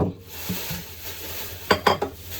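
Pompano fish frying in a pan, wet fish placed straight into the hot oil: a low sizzle runs throughout, with a few louder clattering scrapes near the end.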